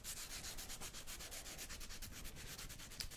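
Steady, close rubbing like sandpaper, a dry rhythmic scraping repeated in quick even strokes for a few seconds, quiet and intimate with no voices.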